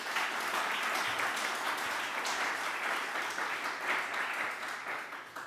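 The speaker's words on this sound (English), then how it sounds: "So please give a round of applause to them." An academic audience at a lecture on the 70th anniversary of the Nuremberg Trials gives steady, sustained applause, a dense even wash of many hands clapping at moderate distance with no talking.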